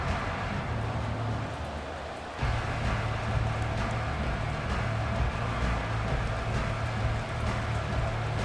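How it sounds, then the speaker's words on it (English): Steady rain pours down during a Madden 24 American football game, a constant close hiss that jumps slightly louder partway through and continues evenly, with no talk over it. "The rain set to continue as we are underway in the second half."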